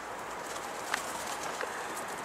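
Soft pigeon cooing under a steady wash of outdoor background noise, with a couple of faint brief calls.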